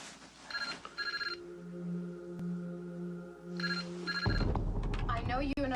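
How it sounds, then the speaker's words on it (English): A landline telephone rings indoors in two clear bursts of trilling bell tone, close and fairly loud. Music plays underneath, and voices and other noise come in near the end. "that'll be the second that phone rings"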